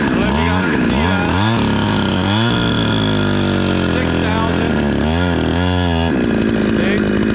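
A big bore Husqvarna 372XP chainsaw runs close and loud, revved in a series of quick rising blips between idle and full throttle, then held high for a stretch before more sharp revs.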